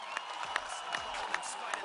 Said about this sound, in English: let's give them all of a big round of applause